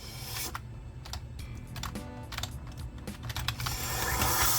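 Keys clatter on a computer keyboard in irregular bursts of close, fairly quiet typing, with a rising background hiss toward the end. The setting is a 2008 Mac Pro running Windows 11.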